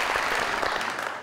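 A studio audience claps, a dense burst of applause that stays steady and fairly loud for about a second before thinning slightly at the end.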